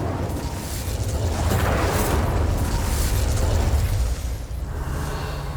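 Incendio fire spell cast in the Hogwarts Legacy video game, a sustained roaring burst of flame with a whooshing, rumbling body lasting several seconds before easing off, loud and close with no talk.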